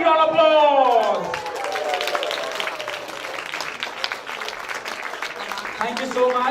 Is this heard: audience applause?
yes